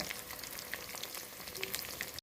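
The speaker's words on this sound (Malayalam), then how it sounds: "വെളിച്ചെണ്ണ ചൂടായി കഴിഞ്ഞപ്പോഴത്തേക്കിന് നമ്മളിത് വഴുതനങ്ങ ഇട്ട് കൊടുത്തു" Eggplant pieces fry in hot coconut oil, giving a steady, dense crackling sizzle close by with scattered sharper pops, continuous for about two seconds before a brief dropout at the end; no talking.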